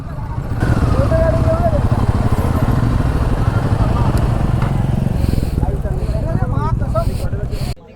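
A motorcycle engine rumbles steadily up close as the bike rides along into Pachad village, with a person talking over the drone.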